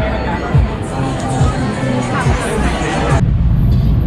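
A dense crowd fills the Golden Mount temple fair in Thailand with steady babble and chatter, many voices merging into a loud, continuous hubbub close around the listener.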